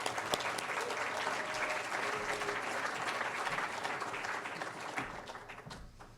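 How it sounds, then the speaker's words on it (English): A seated audience at a public talk gives a full, steady round of applause: dense clapping from many hands that holds for several seconds and then thins out toward the end. "let's give everybody a round of applause while he makes his way up"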